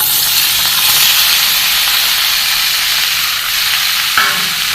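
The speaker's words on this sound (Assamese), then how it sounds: "এতিয়া গৰম হৈ যোৱাৰ পাছত গোটেইখিনি মছলাখিনি ইয়াত দি ভালদৰে ভাজি ল'ম" Spice paste for butter gobi curry fries in hot oil with a loud, steady sizzle and hiss, close up, with a brief stirring scrape near the end and no voices.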